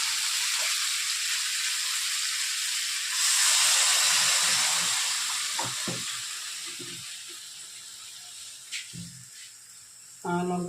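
Water poured into a frying fish head and bottle gourd curry sends up a sudden loud hiss of steam, which swells briefly and then slowly dies down to a soft simmer, with a few light knocks and clatters.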